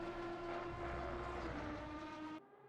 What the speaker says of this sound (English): The tremendous sound of that V12 engine.